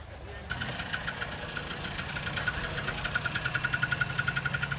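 A small, weak, rough engine of a three-wheeled vehicle in Munich idles and chugs, its uneven knocking pulses growing stronger and more regular over a few seconds.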